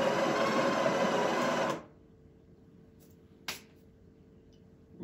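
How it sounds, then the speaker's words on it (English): Breville Barista Touch BES880 espresso machine grinder purging coffee beans, a loud, close, steady whirring grind that stops abruptly partway through, followed by near silence with a faint click. "So I'm going to grind for about 3 seconds. Just to get rid of the old coffee."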